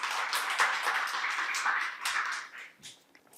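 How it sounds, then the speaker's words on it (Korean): Attendees at a Korean social services investment exchange event applaud in a brief burst of clapping that fades out after a few seconds. "다시 한번 조상미 원장님께 큰 박수 부탁드리겠습니다"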